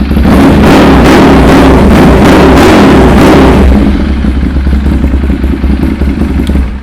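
A 2014 Ducati 796 motorcycle engine and exhaust rumble loudly and close, a steady deep idle with a harsher, busier burst over the first few seconds before settling into a lower, even throb.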